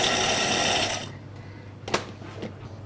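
A blender whirs loudly and steadily for about a second as it gives a jalapeno vinegar sauce its final mix, then cuts off, leaving quiet room tone and a couple of small knocks.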